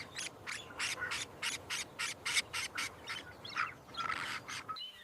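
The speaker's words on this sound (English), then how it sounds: "Chirp, chirp," Rainbow lorikeet chicks in a hollow nest give a rapid series of high, thin chirps and squeaky calls, close and fairly soft, repeating in quick bursts with brief gaps and no talking.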